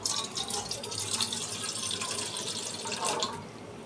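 Water pours steadily into a bowl as the first step of a homemade henna hair remedy, making a continuous splashing trickle that swells slightly near the end, with no talking.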